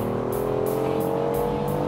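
A BMW i8 Roadster, a mid-engine car, cruises along with a steady, droning engine tone that climbs slightly in pitch, while faint rhythmic whooshes pulse over it.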